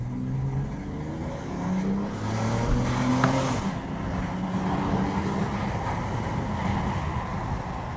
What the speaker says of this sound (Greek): Πάμε λοιπόν τώρα να δώσουμε λίγο έτσι ένα γκάζι.